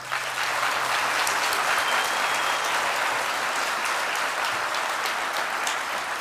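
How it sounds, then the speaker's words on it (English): An audience at Durham's 2025 State of the City address gives a sustained round of applause, dense and even clapping that fills the hall throughout. "please join me in giving them a round of applause"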